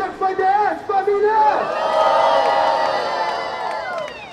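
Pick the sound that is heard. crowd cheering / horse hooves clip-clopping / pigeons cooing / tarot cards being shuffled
crowd cheering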